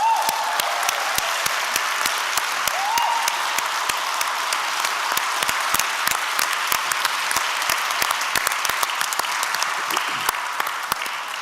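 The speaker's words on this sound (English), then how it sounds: "Can we have another round of applause?" Sustained, dense audience applause at a lecture fills the entire stretch, steady and close-sounding without letting up, with no speech on top.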